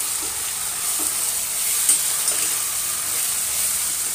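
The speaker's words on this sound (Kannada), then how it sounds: "ಟೊಮೊಟೊ ಹಣ್ಣು ಒಂದು ನಿಮಿಷ ಒಂಚೂರು ಹಿಂಗೆ ಬಾಡಿಸ್ಕೊಳ್ಳೋಣ" Tomatoes sautéing in a pan for vegetable upma, a steady close sizzle with faint stirring scrapes and no voices.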